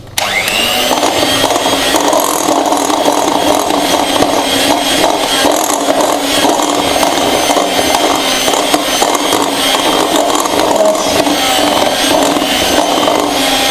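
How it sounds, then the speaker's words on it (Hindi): An electric beater whirs loudly and steadily without a break as it mixes biscuit dough close up, with no talking. "मिक्स करने के बाद थोड़ा सा हम बीटर चलाएंगे।"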